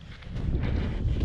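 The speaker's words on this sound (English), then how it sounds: "here's an example of the wind" Strong wind gusts across a free campground on the Kokopelli Trails in western Colorado, buffeting the microphone with a close, rumbling roar.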